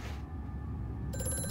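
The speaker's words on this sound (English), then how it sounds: "And, of course, the phone's ringing." Telephone bell in Amnesia: A Machine for Pigs bursts into ringing partway through, loud and rattling over a low droning ambience that fills the quiet moment before it.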